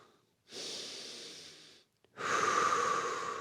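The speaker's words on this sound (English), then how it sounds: "Big deep breaths, leave the muscles relax." Two long, deep belly breaths during an easy full-body yoga flow, each a close, soft, airy rush separated by a short pause.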